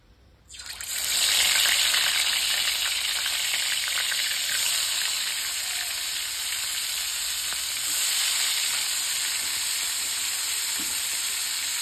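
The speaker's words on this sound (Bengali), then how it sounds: "কাঁচা লঙ্কা বাটা দিয়ে রান্না করছি" Steady loud sizzle of frying in a pan as food cooks with green chili paste, a dense continuous hiss starting abruptly and holding for the whole stretch, with faint stirring scrapes and no talk.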